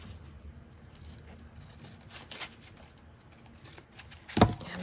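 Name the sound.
trimming paper for a scrapbook journal with scissors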